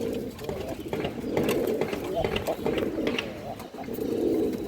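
A male pigeon coos in a pigeon seller's loft, its low throaty calls blending with other birds in a steady close-up murmur, with a voice talking over it.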